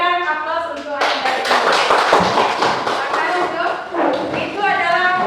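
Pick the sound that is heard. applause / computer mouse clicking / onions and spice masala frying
applause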